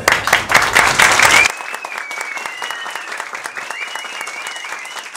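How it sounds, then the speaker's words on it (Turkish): Wedding guests break into dense, loud applause that stops abruptly after about a second and a half, leaving a thinner scattering of claps and faint chatter under a high tone. "Alkışlayalım önce Serper'e gelsin."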